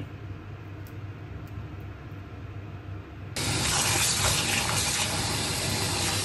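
Water from a tap gushes loudly and steadily over freshly cut shrimp being washed, the flow starting abruptly after a quieter moment and running on as a constant close hiss.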